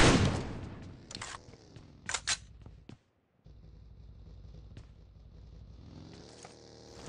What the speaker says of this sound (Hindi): इतने में एक बग्गी गुजरती है, जिसपे मैं फायर कनेक्ट करने की नाकाम कोशिश करता हूँ।